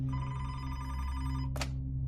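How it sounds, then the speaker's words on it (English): Police station telephone ringing as a sound effect, a sustained electronic ring lasting over a second, followed by a brief sharp click over a low, steady hum. "after Timmery had left the police station, the phone in the police station rang, and Officer Matt Owens answered it."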